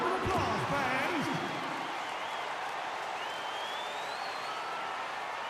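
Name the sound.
crowd applause in NBA 2K12 video game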